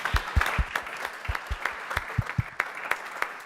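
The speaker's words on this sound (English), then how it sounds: "let's give him a big round of applause again" A small group claps for an honoree at a Mason City council meeting, giving irregular sharp claps that are close and distinct, thinning out toward the end with no talking.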